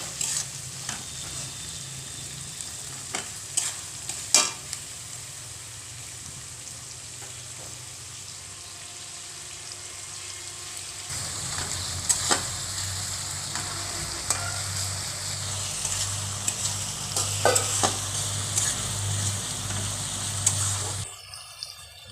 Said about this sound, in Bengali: দেওয়া হচ্ছে এতে রসুন কুচি দিয়ে ভালোভাবে নেড়ে চেড়ে ভেজে নেওয়া হচ্ছে